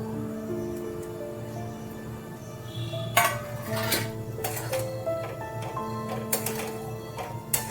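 A spoon clinks and scrapes against a pan while kasuri methi bora curry is stirred, giving a few bright metallic taps spaced a second or so apart over soft background music.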